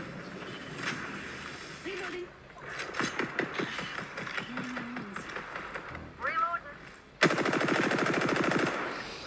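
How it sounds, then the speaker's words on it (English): Automatic weapon fire in the video game Apex Legends, rapid mechanical bursts mixed with game effects under excited talk from players, ending in a long sustained rattling volley. "He just keeps shooting."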